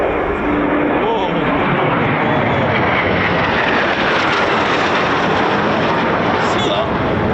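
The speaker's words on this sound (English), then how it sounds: "It is a carousel of Typhoons today." Eurofighter Typhoon FGR4 fast jets roaring past at RAF Coningsby, a loud continuous broadband jet rumble sustained throughout with no break, with spectators talking underneath.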